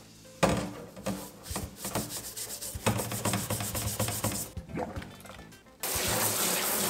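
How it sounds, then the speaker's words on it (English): Scrubbing grime and rust off a vintage Coleman camp stove: repeated close rubbing and brushing strokes in an irregular rhythm, with a short pause near the end before a steady hiss resumes. "I scrubbed this thing for like 20 minutes"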